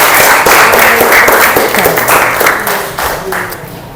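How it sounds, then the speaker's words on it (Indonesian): A classroom of students claps together after group presentations, loud close applause with a thick burst of hand claps that gradually tapers off, with voices mixed in underneath. "Mari beri tepuk tangan untuk kita semua."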